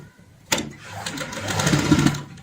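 A sewing machine stitches piping onto a cushion cover, starting abruptly and running as a steady, close, whirring buzz for about two seconds.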